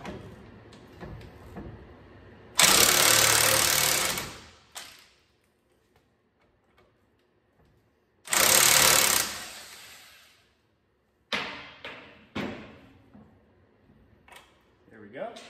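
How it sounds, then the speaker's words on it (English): Impact gun spinning off the bottom nut of the front differential on an 88-98 OBS Chevy 1500 pickup, two loud sustained bursts of about two and one seconds separated by quiet, with shorter clanks and talk around them. "we'll hit the bottom nut with the impact gun and see if we can get it to pop off."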